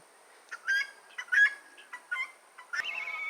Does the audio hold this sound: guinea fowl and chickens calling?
yes